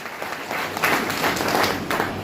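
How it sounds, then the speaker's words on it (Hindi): An audience at a business success celebration breaks into applause: dense, steady clapping from a crowd that carries on for a couple of seconds. "एक बार जोरदार खतरनाक ताली होनी चाहिए।"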